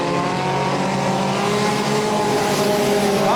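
Junior Sedan race cars roaring around a track, a loud sustained engine drone with rising pitch as cars accelerate and pass, plus a brief tire squeal near the end.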